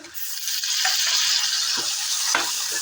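Two medium onions frying in a pan with a little turmeric and a tomato, giving a loud, steady close sizzle with a few scraping stirs and no voices.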